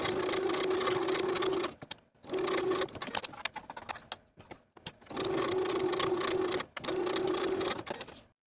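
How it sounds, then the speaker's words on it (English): A sewing machine stitches the shoulder seams of a zipper jacket bodice, running in four steady bursts of about a second or more each with short pauses between, close and clear with no talk. "Sew your shoulder seams with a 5/8 inch seam allowance."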